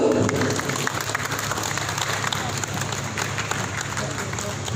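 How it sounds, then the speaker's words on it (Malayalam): A crowd at a music competition prize ceremony applauds steadily for several seconds, a dense wash of clapping hands with a voice faintly audible underneath. "നല്ലൊരു കൈയടി കൊടുക്കൂ."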